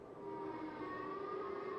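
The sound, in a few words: tornado warning sirens sounding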